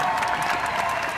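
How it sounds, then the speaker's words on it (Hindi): Loud applause from a comedy show studio audience, a dense burst of clapping that fills the whole moment. "जोरदार तालियां इनके लिए।"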